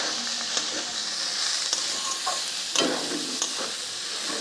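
Grated carrot stirred and frying in a pan for a vegetable chop filling, with a steady close sizzle broken by a few soft scraping strokes of the spoon, no voices.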